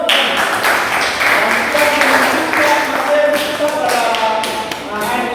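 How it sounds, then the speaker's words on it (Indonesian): An audience in a university chemistry lecture applauds a student, a dense sustained patter of clapping over several seconds with faint voices mixed in. "Kita aplaus."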